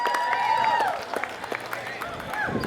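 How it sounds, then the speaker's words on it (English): Applause from a crowd at a pin-up pageant at Colby Cheese Days in Wisconsin, greeting one contestant. The clapping runs steadily through the short stretch, with voices and hubbub mixed in and a brief tonal sound near the start. "Eleanor LaFleur, give her a round of applause"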